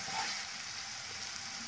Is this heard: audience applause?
no